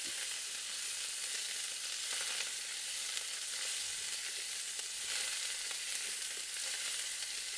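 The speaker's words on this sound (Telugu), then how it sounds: "కొత్తిమీర కొంచెం తొందరగానే ఫ్రై అయిపోతుంది కాబట్టి మళ్ళీ హైలో పెట్టేస్తే మాడిపోతుంది." Fresh coriander leaves frying in a pan over low heat, a continuous even hiss and sizzle with faint stirring scrapes throughout, close and steady with no voices.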